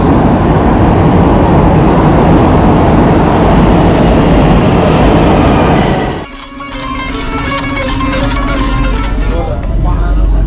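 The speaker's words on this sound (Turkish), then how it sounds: "Şimdi gelen trene binip bir durak sonra ineceğiz." Loud broadband roar of a metro train arriving at a station in Tehran, which suddenly drops away into quieter rumbling, squeals and clanks as it slows, with voices faintly underneath.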